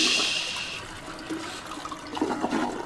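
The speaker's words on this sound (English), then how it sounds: "What a terrible game for not having a realistic toilet flush" A toilet flushes in the horror video game Bendy and the Ink Machine, a gushing rush of water that fades into trickling and gurgling, close and alone with no speech.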